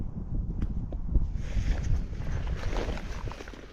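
Gusty wind buffets the microphone near a parked truck in open Utah hunting country, a steady low roar that rises and falls without letting up.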